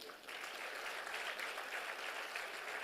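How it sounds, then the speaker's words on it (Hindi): Audience applause at a corporate connect program for the Ekal Gramotthan Foundation in India: steady, dense clapping from a crowd, moderately distant and even throughout, with no voices over it. "एक ताली तो आपकी बनती है।"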